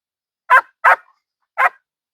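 Three sharp, high barks from an 11-week-old puppy close by, two in quick succession and then one after a short pause, with silence between.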